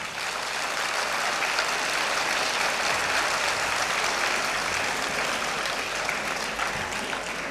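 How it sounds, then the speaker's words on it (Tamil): Parents at a school annual day celebration clap for prize-winning students, a sustained, even burst of applause from a large crowd that stays steady for several seconds without speech. "பரிசு பெற்ற பிள்ளைகளுக்கு ஒரு நல்ல பலத்தை கைத்தட்டு கொடுத்து பாராட்டுங்களேன்"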